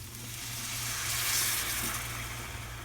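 Milk poured over browned sausage in a skillet for sausage gravy, giving a loud, continuous hissing sizzle that swells and fades slightly, close up with no talk.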